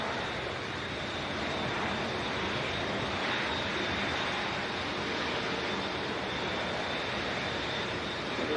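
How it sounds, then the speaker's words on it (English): EasyJet airliner taxiing past at the airport, a steady broadband engine rumble and hiss with a faint whine, moderately distant and continuous throughout, no voices. "Let this EasyJet taxi pass by the looks of it, the arrival"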